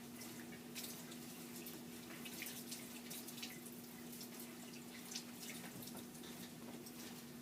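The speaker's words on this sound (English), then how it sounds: "Just rinse them really, really good." Celery stalks are rinsed under a running kitchen tap, a steady close splash of water into the sink with faint shifting as the stalks move through the stream, quiet throughout.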